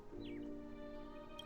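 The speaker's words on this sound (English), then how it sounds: "This is where I heard the bird." A short bird chirp in the video game Honkai Star Rail, a quick falling whistle standing out over a steady game ambience and music bed, brief and moderately clear.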